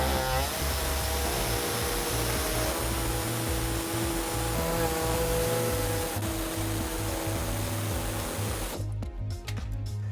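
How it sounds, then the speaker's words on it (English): Air saw cutting a hole in an underbody panel of a 2016 Toyota Sienna during a trailer hitch installation, a loud, steady, buzzing pneumatic rasp running nearly continuously and close up, cutting off abruptly near the end. "we're going to use an air saw and we're going to cut out this hole."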